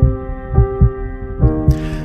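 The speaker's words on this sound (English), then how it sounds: "You feel your heart beating." A heartbeat sound effect thumps in a steady, close double-beat rhythm, five or six loud low pulses with a faint hum beneath, and no voices.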